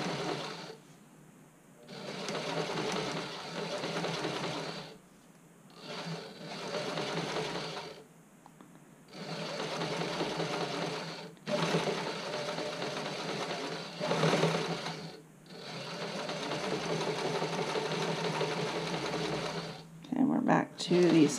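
A sewing machine stitches elastic onto a bra fitting sample in short bursts separated by brief pauses, close and fairly quiet, with someone talking over it.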